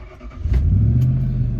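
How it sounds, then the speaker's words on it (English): A 10th generation Ford F-150 pickup truck's engine cranks briefly, then catches and settles into a loud, steady idle rumble close by, with no voices. "starting up the truck here"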